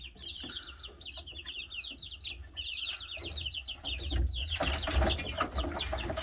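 Small bird chicks in a heated brooder, with rapid high chirps and peeps running throughout, growing busier and louder toward the end along with scratching and rustling.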